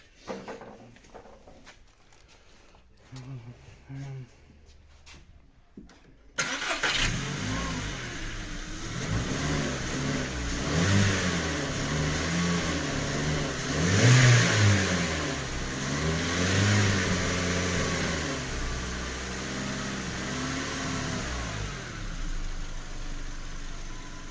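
A Volkswagen engine with a leaking second cylinder is started during diagnostics. After quiet clicks and handling noises it cranks and catches, then runs close and loud with several rises and falls of revving before settling.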